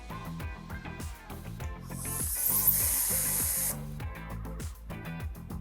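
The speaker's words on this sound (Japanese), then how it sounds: "霧状の、ラピッドタブローワニスが噴射されました。" A spray bottle sends Holbein Rapid Tableau varnish out as a fine mist over a finished oil painting. It makes one sustained, bright hiss of about a second and a half, close and clear over a rhythmic low thumping background.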